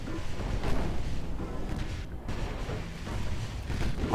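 Warship naval guns firing high-explosive shells in the Ultimate Admiral Dreadnoughts naval battle game, a dense, continuous rumble of booming gunfire that stays loud throughout with no speech.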